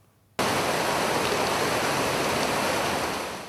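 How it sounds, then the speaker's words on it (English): Floodwater from an all-night downpour cascades off mountain slopes into a drainage channel, a loud, dense, unbroken roar that bursts in suddenly and holds steady, easing only slightly at the end, with no voices. "The all-night-long downpour triggered water cascade that rushed down from the mountains into the drainage channel"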